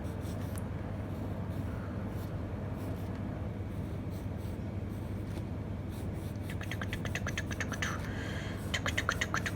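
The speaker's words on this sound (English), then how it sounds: "I'm doing it with the pencil, children, graphite pencil." Graphite pencil drawing on paper gives a steady, close scratching of strokes, growing into quicker, sharper bursts of scribbling toward the end.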